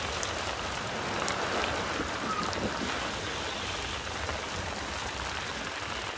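Sea waves washing around a sailing boat at sea, a continuous broad rushing and splashing close by, steady and fairly loud, with no talking.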